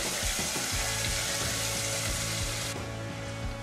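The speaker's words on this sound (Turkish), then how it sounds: "Isınan yağa soğanları ilave ediyorum. Pembeleşene kadar kavuruyorum." Onions sautéing in hot oil in a pan, a steady close sizzle with scattered stirring clicks and scrapes, dropping slightly quieter near the end; no one speaks.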